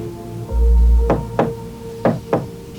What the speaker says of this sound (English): No, Ernie, that was a knock at the door.